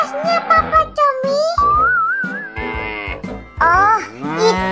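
A cow moos in Sakura School Simulator, a loud, drawn-out, wavering call that rises and falls over a few seconds, mixed with a higher, childlike voice.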